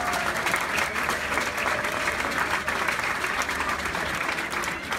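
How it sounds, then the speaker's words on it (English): Audience applause at a Gibraltar 2019 half marathon medal ceremony, a dense, steady round of clapping from a crowd, loud and sustained throughout with no break. "So if we can give her a massive round of applause"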